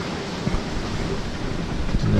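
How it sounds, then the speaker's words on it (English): Below-deck cabin of a Hallberg-Rassy 54 sailboat under sail on the open sea, a steady low rushing of water and wind against the hull with soft creaks and knocks, no voices. "This is the cabin down below while we're sailing."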